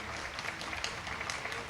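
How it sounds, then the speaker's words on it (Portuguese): Staff of Portugal's Assembly of the Republic applaud as the outgoing president departs, a steady wash of clapping at moderate volume with no speech over it. "neste momento um aplauso por parte dos funcionários da Assembleia da República"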